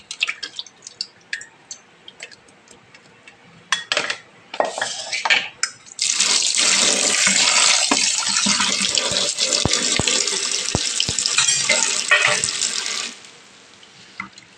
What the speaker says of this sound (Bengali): তো সেগুলোকে এখন আমি এই জল থেকে বার করে এটার মধ্যে রাখবো, ঝুড়িটার মধ্যে।